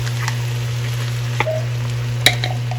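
Ground turkey sizzles steadily in a pan under a constant low hum, with a few sharp scrapes and clicks as a utensil stirs it, close and moderately loud.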